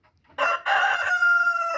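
A rooster crows in a backyard chicken coop near midday, a single loud, close cock-a-doodle-doo in several rising and sustained segments, heard alone.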